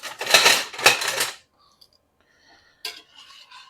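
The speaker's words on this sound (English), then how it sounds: "just whisk this around as this sauce continues to reduce" A lemon butter piccata sauce being whisked in a pan, with two bursts of quick metallic whisk strokes up close, then near silence before a brief lighter clatter.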